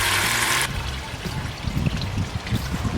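Water poured steadily from a container into a cylinder packed with soil, a close, continuous trickling and gurgling that turns rougher and more splashy after a brief loud start.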